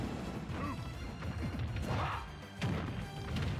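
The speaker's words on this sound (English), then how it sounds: "Thick hit sounds." Heavy hit impacts in a Super Smash Bros match, a few loud crunching smashes and swooshes close up amid constant busy game noise.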